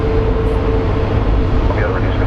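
A jet airliner at Phoenix Sky Harbor International Airport gives off a loud, steady roar that fills the scene without letup, and a voice talks over it.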